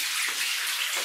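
Water splashing and trickling steadily out of drill holes inside an old Soviet mine, a dense hiss of running flow pouring out, close and continuous with no voices.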